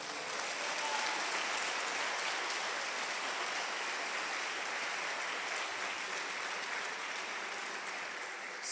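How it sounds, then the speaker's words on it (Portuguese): A church congregation applauds, a dense, steady wash of many hands clapping that holds evenly throughout, heard at moderate distance with no voices over it. "dá um aplauso ao Senhor"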